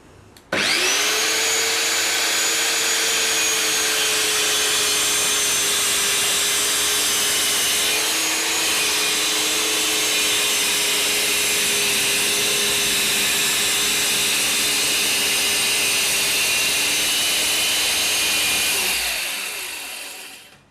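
A 7-inch circular saw whines steadily through a long cut in 20 mm plywood, a loud sustained motor drone with a rough cutting texture, winding down at the end.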